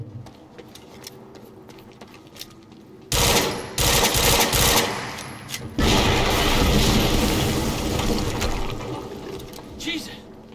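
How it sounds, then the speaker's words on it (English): A sudden loud broadband blast erupts, then a second heavy roar follows and rumbles on, booming explosions in the video game Quantum Break over faint background noise. "HQ, we just heard an explosion near the harvesting perimeter."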